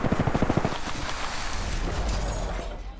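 Automatic gunfire rattles in a rapid, close burst in the Apex Legends battle royale game, then gives way to a dense, noisy wash of combat ambience.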